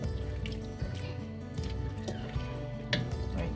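Oil, about 250 ml, poured into a pot for Korean soft tofu stew, a quiet liquid trickle with small dripping and squishy splashes running for several seconds.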